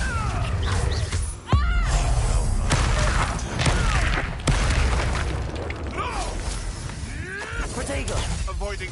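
Bombarda blast spells in Hogwarts Legacy go off amid a chaotic spell battle, with several sharp booming bursts and crackling magical effects over about nine seconds, while voices speak and cast spells throughout.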